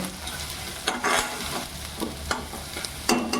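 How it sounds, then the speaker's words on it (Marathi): Turmeric being stirred and fried in a pan for a fenugreek (methi) bhaji, with soft scraping stirs and a low sizzle repeating at an uneven rhythm, close by and fairly quiet. "त्याच्यात आपण थोडी हळद घालू हळदला पण जरा आपण अशी दवडून घेऊ"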